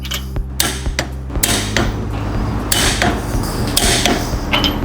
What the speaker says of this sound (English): Just gonna keep going until I hear a click.